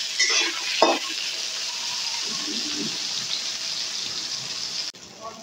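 Salted eggplant pieces fry in oil, a constant close sizzle with a clatter of stirring near the start, then a sudden cutoff before the end.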